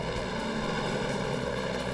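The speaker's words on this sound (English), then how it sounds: "Customs Service helicopters supported the ground units in the search." Steady, continuous aircraft engine drone with a helicopter-like rotor hum, loud and unbroken throughout, with no voices.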